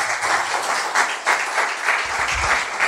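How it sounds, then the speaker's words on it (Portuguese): A church congregation applauds during a service, dense sustained clapping at fairly close range with rhythmic surges throughout, and a few low voices mixed in toward the end. "Vamos aplaudir o Senhor Jesus."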